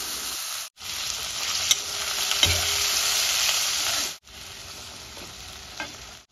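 Kolhapuri-style guar bean bhaji with turmeric sizzles in a pan as it is stirred, a loud, close frying hiss with scraping bursts, broken by two brief silent gaps.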